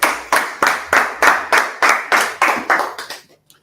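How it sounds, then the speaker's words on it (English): A group claps together in a steady, loud rhythm, about ten sharp claps evenly spaced before trailing off into quiet, with no talking over it. "Right, clap it up."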